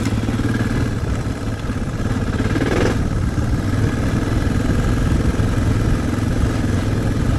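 A Suzuki DR650 dual-sport motorcycle rides a mountain trail, its single-cylinder engine thrumming steadily and loudly up close, with constant mechanical clatter and wind rush throughout.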